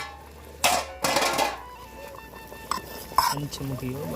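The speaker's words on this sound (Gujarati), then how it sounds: "ચમચો જે હલાવીને બતાવી દેજો." A ladle stirring a vegetable curry in a pot, producing a few scraping, clattering strokes of metal against the pot with quieter bubbling between them and voices chatting nearby.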